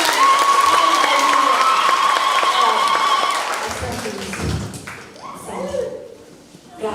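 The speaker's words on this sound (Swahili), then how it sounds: "Tupigie Mungu makofi mazuri." A church congregation claps loudly and steadily for God for several seconds, then the applause fades while voices speak.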